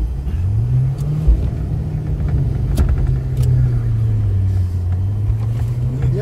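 An old VW Polo 86C drives and drifts with a steady low engine drone that rises and dips as it revs, with faint tyre and road noise and no talk.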